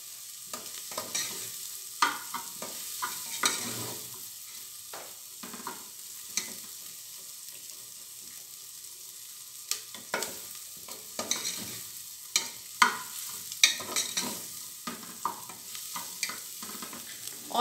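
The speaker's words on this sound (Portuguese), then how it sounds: "Vou deixar ela fritar bem aqui pra soltar aquele Aquele gostinho bom" Food fries and sizzles in a home kitchen pan, a soft steady crackle under frequent scraping and stirring strokes, close and fairly quiet, with no one speaking.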